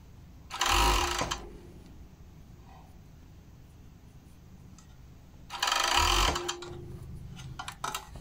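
Two loud bursts of a sewing machine stitching the cuff of a long-sleeve blouse, each lasting under a second, separated by a quiet pause, with small clicks of handling near the end.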